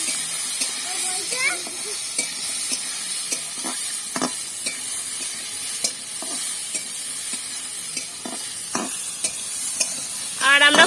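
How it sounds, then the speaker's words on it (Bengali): Jujubes stirred in a frying pan with nigella seeds, fennel and dried red chilli for a village-style pickle, a steady hiss of frying under scraping spoon strokes, with louder clatters near the end. "আর আমরা কুলগুলোকে কিছুক্ষণ ভালো করে নেড়ে চেড়ে নিয়েছি।"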